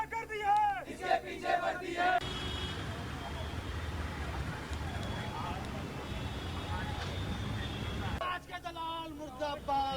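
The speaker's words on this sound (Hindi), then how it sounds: "दो तस्वीरें आपको दिखा रहे हैं प्रदर्शन की। इनकी आवाज से आप समझ सकते हैं किस कदर गुस्सा इस वक्त जनता के बीच है।" Angry protest crowd in Hathras, a dense roar of many voices shouting together for several seconds, bracketed by a news reporter speaking before and after.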